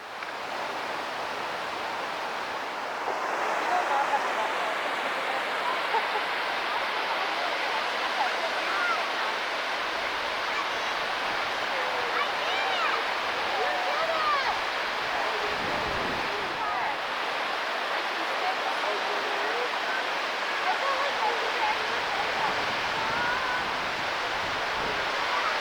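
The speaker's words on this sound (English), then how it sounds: "This waterfall is crowded." A waterfall in a Utah canyon gives a steady, close, full roar of rushing water that holds unbroken throughout.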